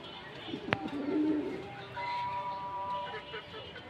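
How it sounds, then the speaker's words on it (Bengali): Pigeons of a colored Rajgolla breed coo softly after feeding, low murmuring calls over a steady background hum, with a sharp brief knock partway through. "কবুতরকে খাবার দিলাম কবুতর এই যে ডাকতেছে"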